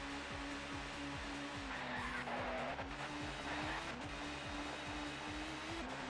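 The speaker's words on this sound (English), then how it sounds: "Car getting a little bit squirrely." Touring car sliding around Brands Hatch Indy in ToCA Touring Car Championship, with a steady loud engine drone and tyres skidding and squealing through the turn, continuous throughout.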